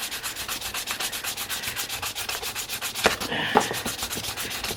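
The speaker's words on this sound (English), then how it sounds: "End grain doesn't matter which way you sand it" Hand sanding across the end grain of a wooden chair during restoration, a steady close scraping rasp in quick regular back-and-forth strokes, with a couple of slightly louder scuffs near the end.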